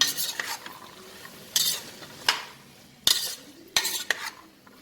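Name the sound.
sautéing potatoes and green peas in a pan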